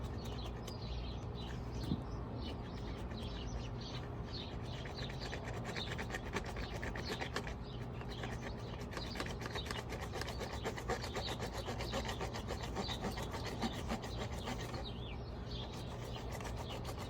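An irrigation pipe being cut by hand in a front yard: steady, rhythmic rasping strokes that continue throughout, with birds chirping faintly in the background.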